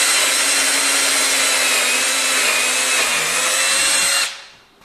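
A power drill runs in one long, loud, steady whine while boring a hole, then spins down and stops near the end.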